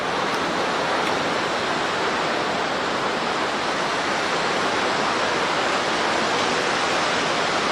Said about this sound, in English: So we've got the waterfalls,